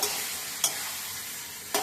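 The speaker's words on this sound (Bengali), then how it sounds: "ডিমের সাথে আলুর সাথে মশলাটা কষিয়ে নিচ্ছি" Eggs and potatoes being stir-fried in spice masala give a continuous loud sizzle, with two brief scraping stirs of a utensil against the pan.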